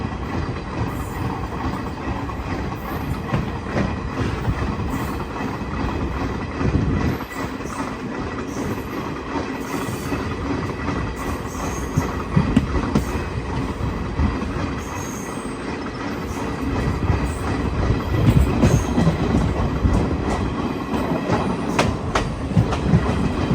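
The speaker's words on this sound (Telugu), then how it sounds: "మేడ్చల్ నుంచి మన ట్రైన్ అయితే బయలుదేరిపోయింది" A DEMU train rolls onward after departing Medchal station, its wheels clattering rhythmically over rail joints with intermittent squeals and a steady rumbling drone heard from on board.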